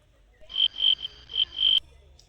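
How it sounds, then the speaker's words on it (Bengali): Crickets near the Kanak Durga temple in Jhargram give four or five short, shrill chirping bursts in a quick uneven rhythm, close and clear against a quiet background. "দেখ ঝিঝি পোকার আওয়াজ আসছে"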